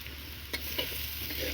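Soaked kalai lentils go into a frying spice mix, a steady sizzle with a few soft stirring clinks, close and with no talking.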